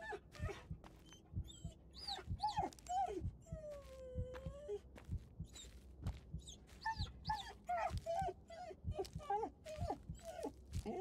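A dog in the Blair Witch video game whimpers and whines in repeated high, wavering cries, close and fairly loud, with short crackling noises between them.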